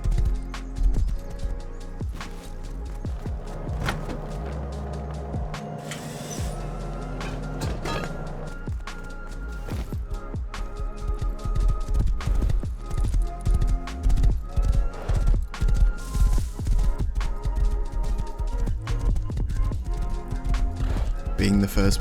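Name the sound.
horse hooves in the video game Rust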